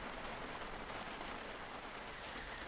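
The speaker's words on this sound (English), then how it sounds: "It's right back to raining pretty hard." Heavy rain in the video game Project Zomboid, a steady, dense hiss of rainfall with no gaps, fairly quiet and constant throughout.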